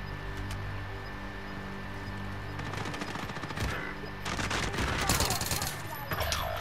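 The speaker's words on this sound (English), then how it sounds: "Taking hostile fire" Bursts of automatic gunfire and scattered shots crackle in a Call of Duty: Modern Warfare match, growing denser and louder toward the end, with game sounds and a low steady hum underneath.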